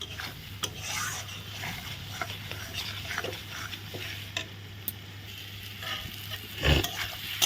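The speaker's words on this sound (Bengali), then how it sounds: "এখন ভালো করে কষিয়ে নিচ্ছি" Spice paste is stir-fried in a pan with a steady sizzle, scraping strokes and occasional clinks of a utensil, and a low hum runs underneath. One sharper knock comes near the end, and no one speaks.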